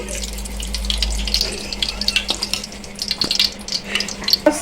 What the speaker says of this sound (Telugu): కొంచెం నెయ్యి పోసుకొని